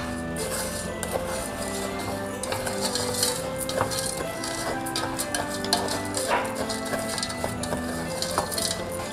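Sugar being stirred as it melts in a pan for Filipino leche flan, with a utensil clinking and scraping against the metal in a steady, busy rhythm up close, plus faint kitchen background.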